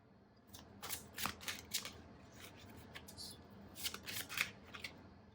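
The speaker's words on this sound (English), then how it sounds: "I'm going to pull one more card for you" Tarot cards shuffled and drawn from a deck, a run of quick riffling and snapping bursts spaced unevenly over a few seconds, close and fairly quiet with no talking.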